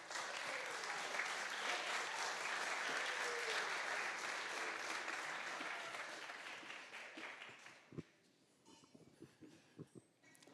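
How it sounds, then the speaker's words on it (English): Sustained audience applause at an entrepreneurship innovation challenge final, dense and loud for about seven seconds before thinning out into a few scattered claps and faint voices. "Round of applause for Gregory Thomas"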